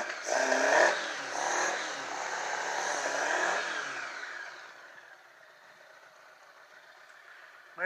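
A 1980 Honda Goldwing motorcycle engine runs close by with the choke off, a rough fluctuating roar early on that settles into a quieter, steady idle hum toward the end.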